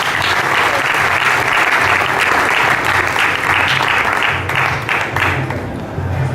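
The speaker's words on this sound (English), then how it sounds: "A round of applause for yourself" An audience at an Impact Africa Youth leadership gathering applauds steadily, a dense, loud wash of clapping that holds for several seconds before thinning slightly near the end.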